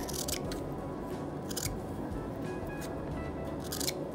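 Scissors cut a piece out of a Dollar Tree stencil, giving repeated crisp snipping bursts close up over a steady background hiss, with no talking.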